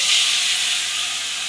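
Fish frying in hot oil for an Odia sankara fish curry: a steady, loud, bright sizzling hiss that holds evenly through the whole moment with no talking.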